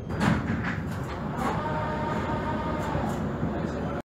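A Prague metro 81-71M train rumbles steadily with door sounds near the start, a close, constant rolling noise with a faint tonal whine running through it.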